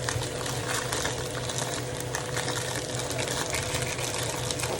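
Running water pours steadily while rice is being rinsed, a dense continuous rush close by with no talking.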